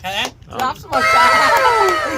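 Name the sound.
clapping and cheering after an eating challenge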